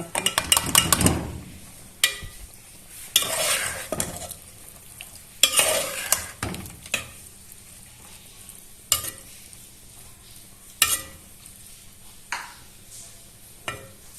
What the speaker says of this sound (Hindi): अब इसमें जो उबली हुई जो चने की दाल है ये इसमें जाएगी